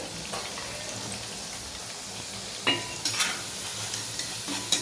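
Sabudana vada fry in oil over a low flame, making a soft, continuous close sizzle with light crackles and a few louder pops and spatters near the end.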